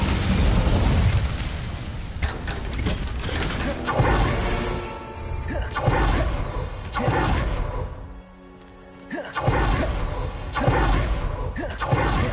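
Fire spell Incendio cast repeatedly in the video game Hogwarts Legacy, loud whooshing bursts of flame recurring every couple of seconds amid dense game combat effects, with a short lull near the end.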